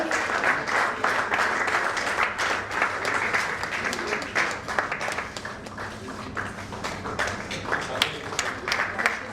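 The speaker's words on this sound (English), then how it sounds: "Let's have a huge round of applause" Audience applause at a medical symposium felicitation, sustained dense clapping from many hands in a hall, steady and moderately loud with a few sharper claps standing out.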